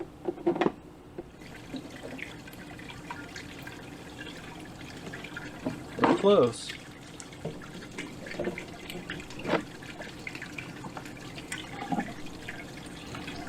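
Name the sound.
water splashing and flowing in a 3D printed hydroponic garden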